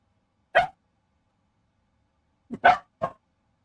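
A pet puppy named Ruby gives a single sharp bark, then after a pause two more quick barks in a row, close and clear against near silence.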